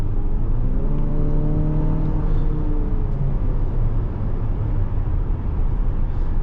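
A 2027 Infiniti QX65 Sport with a 9-speed automatic accelerates hard, its engine note rising in steady tones then dropping as it shifts, heard from inside the cabin over road rumble, with no talk.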